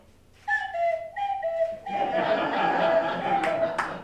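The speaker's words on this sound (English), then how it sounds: "There's the original Acme Cuckoo whistle." Two-tone blasts from an Acme cuckoo whistle repeat a cuckoo-like call several times, moderately loud, followed by chuckling and laughter from a small group.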